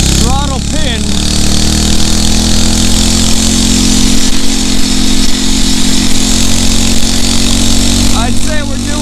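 A Phatmoto Rover 79cc four-stroke motorized bicycle engine runs with the throttle pinned, a loud, steady buzzing drone close to the rider, with wind rush and brief speech over it.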